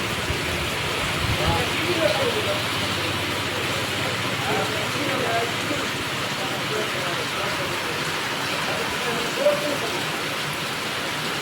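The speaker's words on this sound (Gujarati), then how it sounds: "તો વરસાદ પડે છે જુઓ તમે." Steady rain falls as a broad, even hiss throughout, with faint distant voices and occasional soft knocks underneath.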